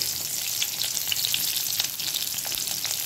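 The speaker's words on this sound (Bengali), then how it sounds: "ওই তেলের মধ্যেই আমি দিয়ে দিচ্ছি কিছুটা মোটা করে কেটে রাখা পেঁয়াজ" Thickly sliced onions fry in hot oil that has just been used for crisp-fried onions, giving a steady, dense sizzle with scattered pops and crackles throughout, fairly loud and close, with no talking.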